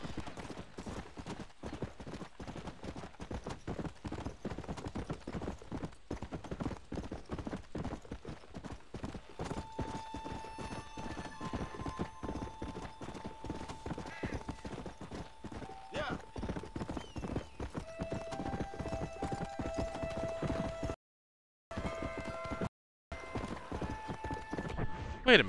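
Horse hooves in Red Dead Redemption 2 clip-clop in a steady trotting rhythm throughout, with occasional snorts or whinnies and game ambience, under someone talking casually; the sound briefly drops out near the end.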